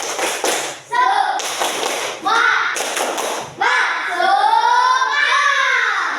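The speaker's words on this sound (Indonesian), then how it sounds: "tepuk semangat" Elementary school children clap in quick rhythmic bursts, loud and close, with voices chanting along between the claps.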